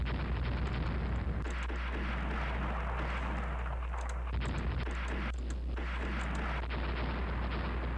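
Naval guns fire on a cruiser in the Ruling the Waves strategy game, deep booming blasts that land in a dense, continuous rumble with repeated heavy bursts, and no voices.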